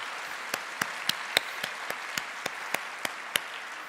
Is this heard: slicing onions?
no